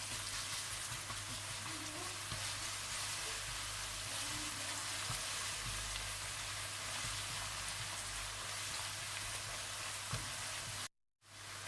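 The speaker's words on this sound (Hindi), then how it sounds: "तो आप इसमें लहसुन डाल दें और इसे भी थोड़ा सा भून लें" Steady sizzling of garlic frying in a hot pan after onions, a continuous crackling hiss with no talking, ending in a brief silence.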